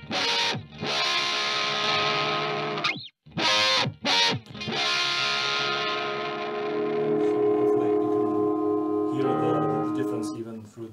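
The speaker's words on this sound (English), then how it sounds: "You can hear the compression coming through, right?" Electric guitar played through a Fairfield Circuitry pedal with compression, thick sustained distorted chords ringing with brief choked gaps, then a cleaner sustained tone trailing off; a voice speaks briefly over it.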